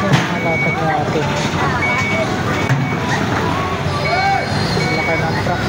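A large truck reverses with steady repeating backup beeps over a continuous engine rumble, amid busy street-market noise and chatter in Divisoria, Manila.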